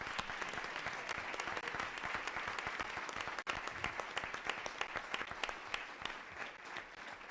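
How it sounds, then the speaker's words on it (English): An audience at a board meeting claps in a sustained round of applause, many hands together for several seconds with a brief dip midway before the clapping resumes and gradually thins. "So let's give them a huge round of applause."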